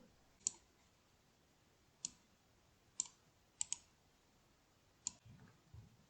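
Faint computer mouse clicks sound one at a time, six or so sharp taps spaced irregularly, with a quick double click in the middle, close and quiet.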